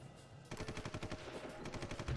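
Rapid, evenly spaced bursts of artillery fire pound away at anti-aircraft guns in the strategy game Supreme Ruler Ultimate, a quick run of booming blasts heard alone.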